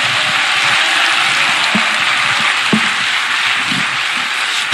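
Audience applause at a conservative political rally fills the space as a dense, steady wash of clapping, fairly loud and continuous, with no voices over it.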